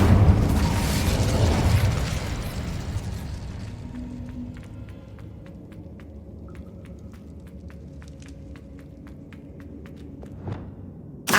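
Hogwarts Legacy's Incendio fire spell goes off as a loud, booming explosion that rolls into a long, fading rumble, with small crackling debris pops trailing behind it and one short thump at the very end.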